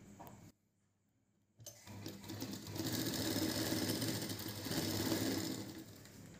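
A sewing machine stitches a brassiere in a tailoring class, running in a steady close whir that pauses briefly near the start, then resumes louder and continues evenly to the end.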